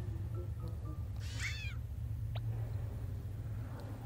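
A cat meows inside the video game Impostor Factory, one clear rising-falling meow followed by a short chirp, heard over a steady low game music hum.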